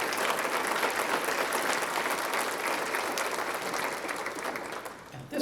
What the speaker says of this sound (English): So please join me in giving a round of applause to all of our member investors who are here